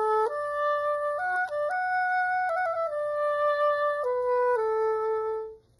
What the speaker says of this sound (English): And put in an oboe, it sounds like this.